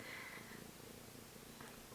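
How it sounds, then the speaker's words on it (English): A loud-purring female cat purrs softly and steadily up close, a faint continuous rumble in a quiet room with no talking. "if you can hear the purrs, apparently it's therapeutic"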